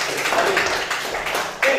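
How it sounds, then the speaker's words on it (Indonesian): Classroom applause after a group presentation, a dense wash of many hands clapping close by, fairly loud and steady for under two seconds, with a few voices mixed in. "kita kasih tepuk tangan"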